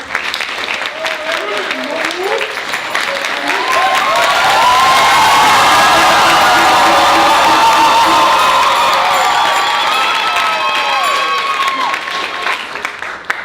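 A live theater crowd applauds and cheers at a comedy show, loud clapping mixed with whoops and shouts that swells in the middle and stays strong before easing slightly at the end.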